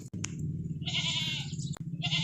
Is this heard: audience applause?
no